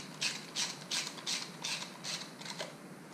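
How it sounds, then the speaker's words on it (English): A ratchet fitted with a T27 Torx bit snugs primary cover screws on a Harley Electra Glide Ultra Classic, giving seven evenly spaced, crisp metallic clicking bursts, close and moderately loud, with no talking. "Now we're going to snug them up with the ratchet using a T27 Torx."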